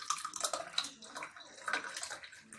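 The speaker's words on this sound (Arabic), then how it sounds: "هبتدي بقى انزل كده من فوق بالراحه في الكوبايات." Strawberry yogurt mixture poured slowly from above into cups, a wet trickling and splashing pour with fruit pieces dropping in, close and continuous for a few seconds.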